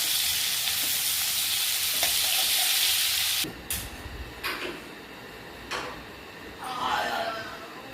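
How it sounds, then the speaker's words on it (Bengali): Eggplant and potato frying in a pan with salt, turmeric and five-spice, a loud continuous sizzle for a few seconds, then quieter frying broken by several sharp scrapes and clatters of stirring. "একদম ভাজা ভাজা করে ভাজবো।"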